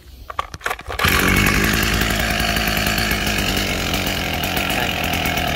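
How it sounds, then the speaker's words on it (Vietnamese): A German-made Stihl 024 AV Super chainsaw starts after a few sharp pulls and then runs loud and steady, its engine droning close by with no talk. "bây giờ xem sẽ tiến hành cho máy nổ và mời cả nhà nghe tiếng máy"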